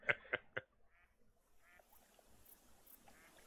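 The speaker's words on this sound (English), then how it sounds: "I hear more ducks now." Ducks call in TheHunter Call of the Wild, three loud honking quacks close by in quick succession, then fainter scattered calls over a quiet outdoor ambience.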